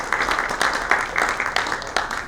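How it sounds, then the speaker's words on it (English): Audience applause at a BFSI tech conference as a guest speaker walks on stage, a steady burst of many hands clapping close by for a couple of seconds. "a huge round of applause as Mr. Rawther joins us"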